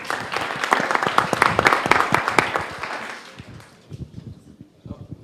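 Audience applause at a round-table panel on wine and cork, a dense burst of clapping lasting about three seconds that quickly thins out to a few scattered claps before fading.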